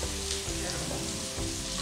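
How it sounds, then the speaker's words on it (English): Peaches placed face down in a pan of honey, butter and vanilla caramel, giving a steady, close, bubbling sizzle that continues without a break and without talk. "now you simply take your peaches and they go face down into that delicious honey"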